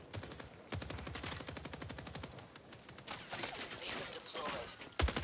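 Rapid gunfire from the video game Marathon, dense repeated shots in quick bursts filling the whole stretch, loud and close, with a heavier blast near the end.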